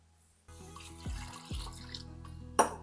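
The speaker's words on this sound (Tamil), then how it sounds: "இதில் ரெண்டு கப் அளவுக்கு தண்ணி ஊற்றிக்கலாம்" Water pours and splashes into a metal pressure cooker, with a couple of hollow gurgling surges and a brief clatter at the end.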